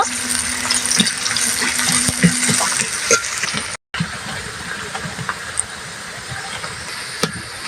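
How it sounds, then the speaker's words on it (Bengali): Round-cut onion slices fry in hot oil in a wok, giving a loud, steady sizzling hiss with scattered pops and crackles and a brief dropout midway. "পেঁয়াজগুলো আমি ভালোভাবে বাদামি বাদামি কালার করে ভেজে নেব"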